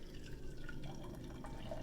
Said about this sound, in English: pour in the hot water and then mix it as we're pouring it